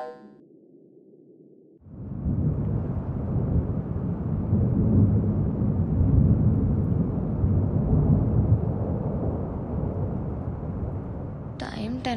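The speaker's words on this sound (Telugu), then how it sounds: "ఏంటి, వర్షం పడుతుందా?" Thunder rumbles in after a brief quiet start and rolls on as a long, heavy, close roar mixed with steady rain, followed by a short ringing clang near the end.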